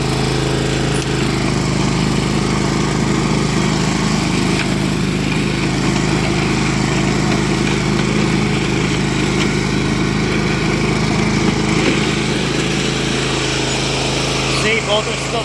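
A Honda lawn mower engine runs steadily in third gear, making a loud, even, high-pitched drone that holds without change for the whole stretch.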